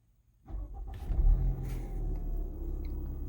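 A Range Rover Evoque engine cranks and fires, settling into a steady close idle rumble after the start, with no talking.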